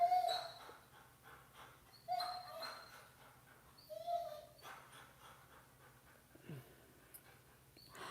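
A dog in a home with several dogs whimpers and whines in repeated short, high cries spread across the stretch, faint and fairly close, with soft breathy noise between them.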